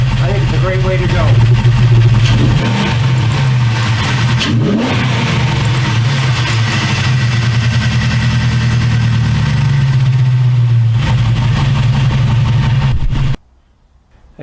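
Jeep Grand Cherokee WJ with a 4.7 V8 and 08 camshafts idling roughly, a loud, steady, lumpy engine rumble with slight revving before cutting off near the end; a voice talks over it.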